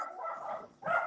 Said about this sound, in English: Yeah, that's the dog.